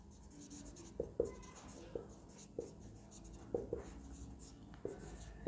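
A pen writes a population math formula by hand on paper, with close, faint scratching strokes and sharp taps at irregular intervals.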